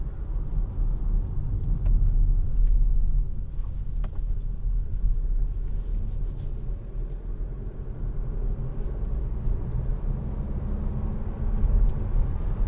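A 2018 Mazda CX-3 1.8 diesel with 115 PS accelerates on the road, heard from inside as a continuous low engine and road rumble that swells and eases slightly over several seconds.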